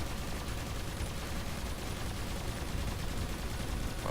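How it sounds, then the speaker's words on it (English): Spaceship weapons in the space game Avorion fire steadily at an enemy ship from a distance, a dense, even wash of rapid blasts with no talk over it. "But we are firing from quite a distance"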